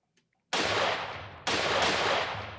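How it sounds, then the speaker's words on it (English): Two sharp, loud gunshot sound effects in a D&D 5e gothic horror tabletop session, each a sudden blast with a long decaying echo, the second followed quickly by a third crack; no talking. "you heard a gunshot"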